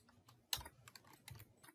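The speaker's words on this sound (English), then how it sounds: "Just typing it in." Brief, quiet typing on a computer keyboard while entering statistics syntax, a few scattered soft key clicks with one sharper tap, close by.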